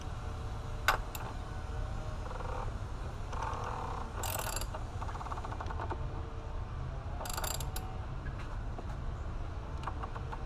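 Socket ratchet tightening the oil filter on a BMW 328i, faint clicking ratchet strokes in short bursts with pauses between them, heard close and alone.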